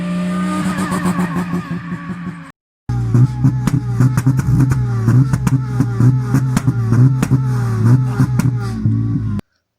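A Lexus IS200 engine fitted with a launch control box, revving hard and loud up close in repeated rising and falling bursts with crackling pops, split by a brief cut to silence.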